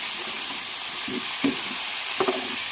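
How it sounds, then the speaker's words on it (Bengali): New potatoes fry in hot oil with a loud, constant sizzling hiss, while a few quiet spatula scrapes and stirs surface now and then. "সয়াবিন দিয়ে আলুর দম করবো। আলুটা ভেজে নিচ্ছি।"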